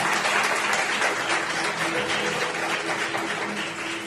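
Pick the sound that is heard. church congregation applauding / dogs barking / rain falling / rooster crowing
church congregation applauding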